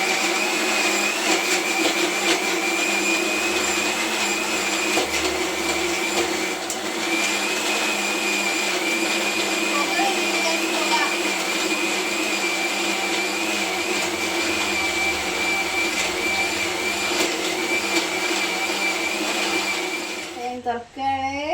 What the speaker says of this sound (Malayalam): മിക്സി ഒന്ന് നമുക്ക് സെറ്റ് ചെയ്ത് വെക്കാം കേട്ടോ.